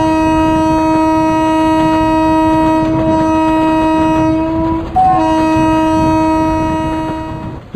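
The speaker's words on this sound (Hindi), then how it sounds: "ये वाले हॉर्न का साउंड तुमको कैसा लगा?" A loud, sustained train horn in a railway video game blares steadily for several seconds, briefly shifting pitch before continuing and fading slightly.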